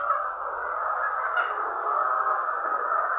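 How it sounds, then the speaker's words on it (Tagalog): A crowd of chickens clucking and squawking together in a steady, dense chorus, fairly close, with no talking. "marami na naman manok"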